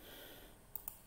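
Two quick, sharp computer mouse clicks close together, faint against a quiet room hum, with no voice.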